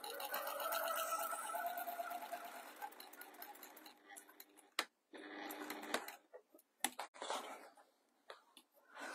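A sewing machine back stitches the corner of a fabric storage container, a quick rattling needle run up close that breaks into short bursts and stop-start clicks as the direction reverses.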